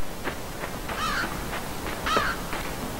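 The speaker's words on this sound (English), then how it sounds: "That's a huge crow." Crow cawing in the video game Limbo: several harsh caws in a loose rhythm, with two louder, longer calls standing out against a dark, quiet ambient background, with no talk.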